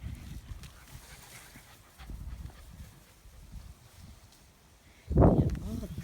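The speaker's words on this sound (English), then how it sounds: "We have all these dogs running around." Dogs of all ages move around during off-leash training, with faint panting, shuffling and paw steps under quiet talk, then a louder burst of movement near the end.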